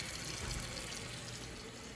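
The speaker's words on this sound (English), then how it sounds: "we're just gonna let some cold water kind of fill up the container here" Cold water runs steadily into a container holding quartered morel mushrooms, a continuous close, full rushing splash with no talking.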